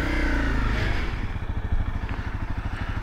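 A Honda CRF250L dual-sport motorcycle on a test ride, its 250 cc single-cylinder engine rising in pitch and then settling into a close, loud, pulsing throb with a rapid regular beat.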